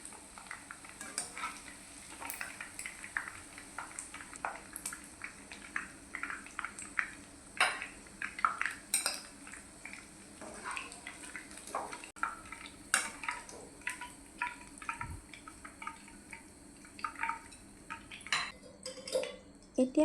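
Golden fried fish pieces for chilli fish are lifted out of a frying pan onto a plate, with repeated close utensil clinks and scrapes against the pan over a steady low background hiss and no talking.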